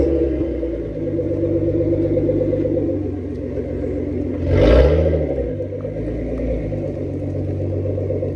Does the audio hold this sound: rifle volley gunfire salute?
no